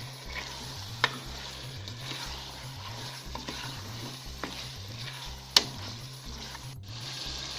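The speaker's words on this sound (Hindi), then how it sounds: "अब इसमें चिकन शामिल करके तकरीबन 5-7 मिनट तक भूनें।" Chicken sautés in a pan with chopped chilli, salt and spices, a low steady sizzle under rhythmic scraping stirs, with a few sharp clicks of the utensil against the pan.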